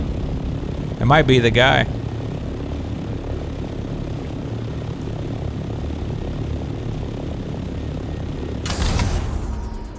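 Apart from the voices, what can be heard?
vehicle driving by in Dune Awakening video game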